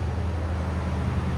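A 2020 Toyota Tundra's 5.7L V8 with an X-pipe and Flowmaster Super 40 exhaust idles in a steady, low, even rumble with no revving.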